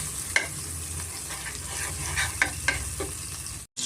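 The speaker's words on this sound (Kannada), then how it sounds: "ಮೆಂತ್ಯ ಸೊಪ್ಪನ್ನ ನಾನು ಬಟ್ರಲ್ಲೇ ಚೆನ್ನಾಗಿ ಫ್ರೈ ಮಾಡ್ಕೊತೀನಿ" Fenugreek leaves frying in butter in a pan give a soft, steady sizzle with a few light stirring scrapes and clicks, fairly quiet and close, with no talk.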